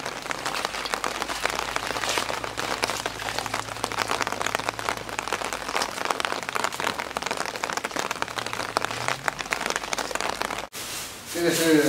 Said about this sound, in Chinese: 我们这里连续下了几天的雨了